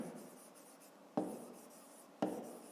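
A pen writes numbers on paper: soft scratchy strokes close by, quiet, with two sharper taps marking separate strokes.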